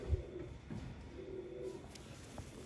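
Sialkoti Sheikhon wale pigeons give a few soft, low coos, fairly faint and close, with quiet pauses between calls and no talking.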